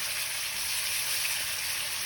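Chicken sizzling steadily in a pan over medium-high heat, a continuous bright hiss close by with no talking.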